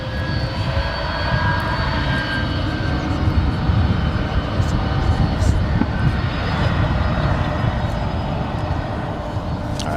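An American Airlines jet roars steadily at DFW airport as it takes off, a loud, continuous engine rumble heard from the ground with faint talk beneath it.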